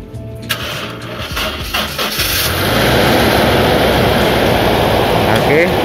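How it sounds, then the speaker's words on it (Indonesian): A used Toyota Innova at a car auction, its engine still somewhat cold, cranks and catches, then settles into a loud, steady idle. It is heard up close with some talk near the start. "Oke, ini mesin Innova, suaranya memang besar."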